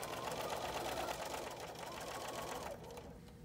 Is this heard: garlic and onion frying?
no